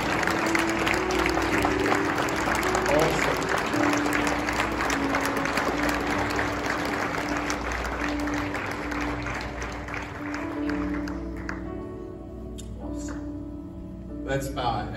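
A large church congregation claps steadily while people come forward, dense applause mixed with crowd murmur and a held musical tone, gradually tapering and thinning toward the close as the clapping dies away.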